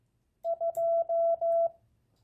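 A single Morse code tone sends the number two, two short beeps followed by three long ones, clean and clear against near silence.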